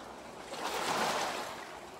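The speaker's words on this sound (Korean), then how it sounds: "바닷물은 잘 들어오고 있죠" Sea water surging in with small waves along a rocky shore, a soft whooshing wash that swells and recedes once, fairly quiet and slightly distant.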